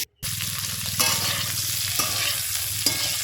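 Cauliflower pieces fry in oil with salt, giving a loud, steady sizzle with occasional stirring scrapes after a brief silent start.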